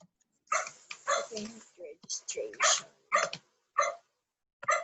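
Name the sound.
dogs barking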